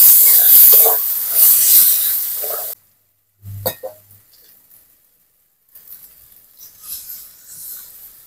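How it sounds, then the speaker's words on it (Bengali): Spices with ground coriander, cumin, turmeric and salt sauté in a pan: a loud, bright hiss for about three seconds cuts off abruptly, followed by a dull clunk and faint, intermittent stirring sizzle. "মশলা খুব ভালো করে কষিয়ে নেব।"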